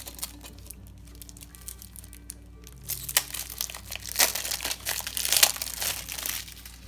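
Plastic wrapping on a deck of playing cards crinkles and crackles in bursts, growing louder and busier toward the end, with a low hum underneath.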